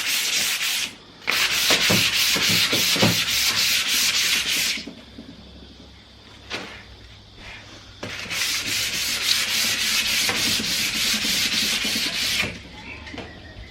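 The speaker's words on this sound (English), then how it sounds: "So that's all the scuff sanding done." Hand sanding of a wooden TV unit during a furniture makeover, a quick scuff sand: steady, close rasping strokes in two long bursts separated by a quieter pause with a few isolated rubs.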